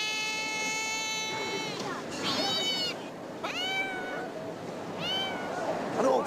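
A cat meows repeatedly, about four drawn-out, high pitched, wavering cries with short gaps, close and fairly loud over a light background hiss.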